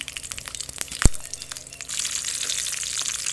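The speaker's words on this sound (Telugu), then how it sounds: "ఆయిల్ వేసి పచ్చిమిరపకాయలు కరివేపాకు ఎల్లుల్లిపాయలు కొద్దిగా వేగాక" Green chilies, curry leaves and garlic frying in hot oil in a kadai on a stove, a steady close sizzle with a sharp clatter near the start, then a denser crackling hiss.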